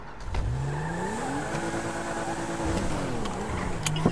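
A four-seater car's engine revs in a GTA RP video game, its pitch climbing and sliding through a steady, fairly loud run with no talk over it.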